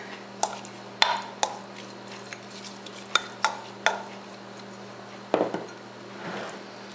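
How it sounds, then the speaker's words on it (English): Garlic and oil being spread over focaccia dough in a pan, a series of soft clicks, scrapes and wet smears at irregular intervals, close and fairly quiet, with no talking. "Spread the garlic and the oil around."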